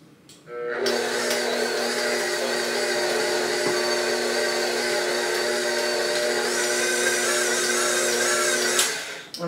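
An electric hand mixer beats cookie batter with two eggs just added: a steady high motor whine that starts abruptly and holds for about eight seconds before cutting off, with no talking over it.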